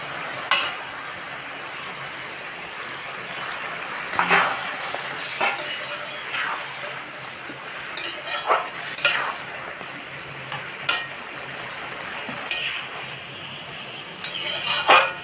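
Fried pointed gourd is stirred into a frying pan, giving a continuous soft sizzle with scattered metallic clinks and scrapes of a spatula against the pan.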